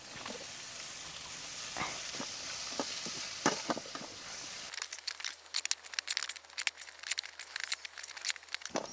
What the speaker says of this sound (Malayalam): ഇനി നമുക്കിത് നന്നായിട്ടൊന്ന് ഇളക്കി വാട്ടിയെടുക്കാം